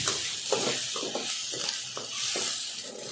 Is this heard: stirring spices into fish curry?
yes